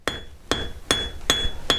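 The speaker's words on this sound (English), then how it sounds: "I'm going to be taking the cross peen and start hammering across the wire this way" A cross peen hammer strikes sterling silver wire on a metal block five times in a steady rhythm, each close, ringing blow leaving a bright metallic tone that hangs between hits.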